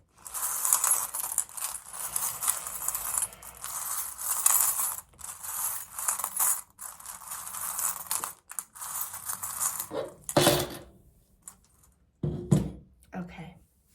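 Small metal charms are shuffled by hand for a fertility reading, giving busy clinking and jingling in bursts with short pauses and a couple of louder knocks near the end.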